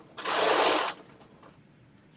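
A sewing machine runs a straight stitch in one steady buzzing burst of under a second, close and fairly loud, then stops into quiet.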